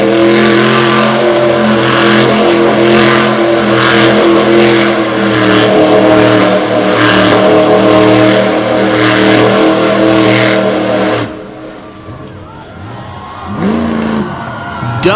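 A monster truck engine at a Lake Erie monster truck show roars loud and steady with rising revs for about eleven seconds, then cuts to a quieter lull with a few fainter engine swells.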